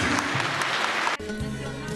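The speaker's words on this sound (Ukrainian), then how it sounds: "Можна плескати так, дякую" Audience applause fills a hall at a Ukrainian awards ceremony for the 100 best products of 2003, dense and loud, then cutting abruptly into quieter room sound partway through.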